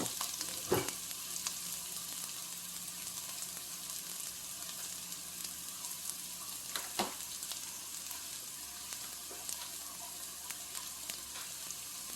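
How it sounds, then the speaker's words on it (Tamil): Onions with fennel seeds sautéing in a pan for a chicken, pea and potato curry, a continuous soft sizzle with occasional sharp spatula scrapes, close and steady throughout. "சோம்பு போட்டு நல்லா வெங்காயம் வதங்கட்டும்."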